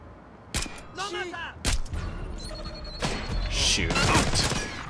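Gunfire from Splinter Cell Blacklist: a few sharp, loud shots and thuds spaced across a few seconds, with game voices and a busy rumble of action between them.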